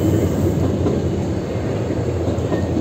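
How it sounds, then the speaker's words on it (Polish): A passenger train bound for Łódź Fabryczna rumbles past close by, loud and steady, with rolling wheel noise and faint clatter throughout and no voices over it. "Do łodzi fabrycznej zmierza ten pociąg."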